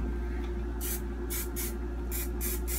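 Hairspray hisses from a can onto freshly curled hair in several short, close bursts over a low steady background hum.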